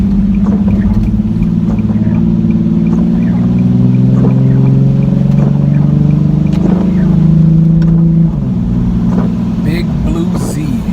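Nissan 370Z with a muffler delete accelerating hard on an empty road, its loud, raspy engine note rising steadily in pitch through the gears, with a brief drop near the end before climbing again.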